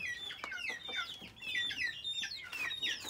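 Hens at a nest cluck softly and repeatedly, a close, quiet run of short, bubbling calls with no pauses, with no talk over them.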